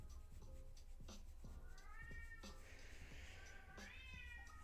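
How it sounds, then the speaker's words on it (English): A hungry house cat meows repeatedly in a quiet room, several drawn-out rising and falling cries mixed with soft tapping and rustling, faint and fairly close. "My cat's hungry. She's trying to bother my kids to feed her."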